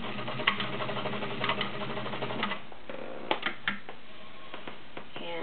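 A heavy-duty Kenmore Model 33 sewing machine running a blind stitch, giving a steady mechanical whir with light rhythmic clicking and a few sharper taps, close and even throughout.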